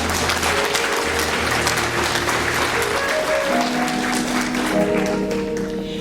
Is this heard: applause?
yes